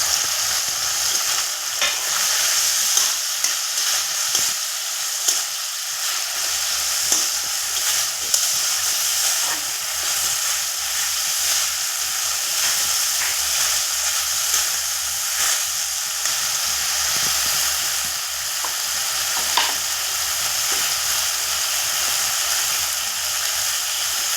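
Chopped onion frying in hot oil with spices for a Bengali egg curry, a steady loud sizzle with occasional stirring clicks throughout.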